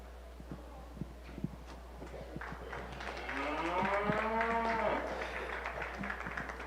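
A heifer at a 4-H beef cattle show lets out one long, wavering moo midway through, heard over a busy indoor arena with scattered knocks and murmuring crowd noise.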